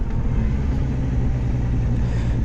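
A 2019 Yamaha Niken three-wheeled motorcycle engine runs close and loud with a deep, smooth, continuous rumble, steady throughout with no talk.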